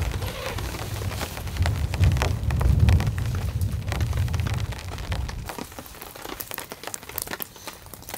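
Heavy rain drumming on a camping tarp, a dense crackling patter with deep rumbling underneath for about five seconds, then thinner, sharper drips and taps.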